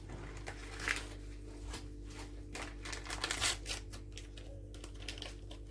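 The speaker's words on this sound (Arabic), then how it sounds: "هفضي كيس الكيك شيف على الدقيق" A bag of cake mix is tipped and emptied onto flour in a kitchen. Crinkling plastic and soft papery rustles and pours come in bursts over a low steady background hum, with no talking.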